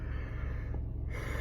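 A person's real, drawn-out yawn, close and breathy, rising and fading over about a second and a half with no speech.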